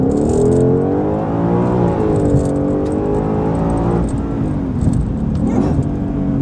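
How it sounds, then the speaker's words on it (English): A 2020 Ford Mustang Shelby GT500 does a drag-mode test launch, its engine a loud, steady close-up roar with rising and falling pitch throughout, and no talking over it. "let's go drive around a little bit so we can do a test launch"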